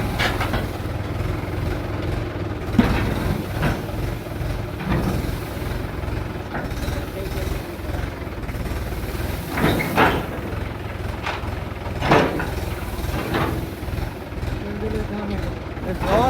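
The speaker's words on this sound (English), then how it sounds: "It's awesome to see the tractor working, Rishant, right?" A farm tractor engine works nearby while pushing hay into place, a steady mid-level drone with occasional knocks and clatters; voices talk over it at times.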